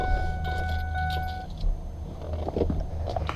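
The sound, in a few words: 7.3 Powerstroke diesel truck engine being shut off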